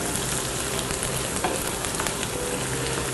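Precooked shrimp simmers and reduces in a pan, a dense, constant close-up bubbling hiss with faint clinks and no talk over it.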